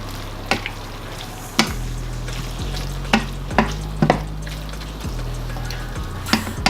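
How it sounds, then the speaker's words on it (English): Meat for an all-meat chili cooking down in a pot, with a steady sizzle and roughly a second between each of the repeated scrapes and knocks of a stirring spoon, close and clear. "Let's cook down the meat first before we put in the tomato sauce and the crushed tomato"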